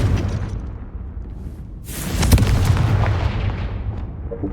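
A Confringo fire spell explodes in Hogwarts Legacy, with a loud burst and sharp crack that fades into a long, rumbling tail over low background din.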